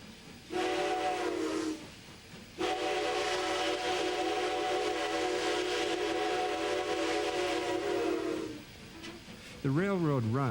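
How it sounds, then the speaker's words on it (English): A White Pass and Yukon Railway steam locomotive on narrow-gauge track in Skagway, Alaska sounds its chime whistle twice: a short blast, then a long, sustained blast of about six seconds. A wavering, rising-and-falling tone follows at the end. "Skagway's White Pass and Yukon Railway still maintains a steam locomotive as part of its passenger service."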